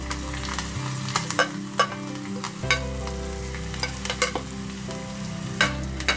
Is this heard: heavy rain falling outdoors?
no